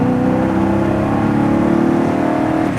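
A 1968 Mustang GT/CS restomod engine drones close by with a deep, steady rumble, rising slightly in pitch as it accelerates along the road, no voices.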